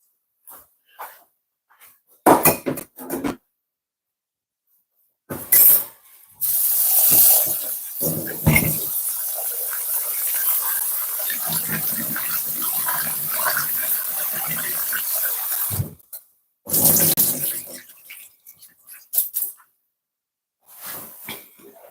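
Rice being rinsed with water in a pot: a few sharp splashes and clatters, then a long stretch of steady swishing and sloshing of water and grains close by, ending in more brief splashes and knocks with quiet gaps between.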